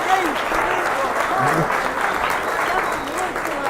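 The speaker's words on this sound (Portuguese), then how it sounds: "Mais palmas aqui" Crowd applause at a political speech in Santos, with loud sustained clapping and cheering from a large audience and a voice shouting over it.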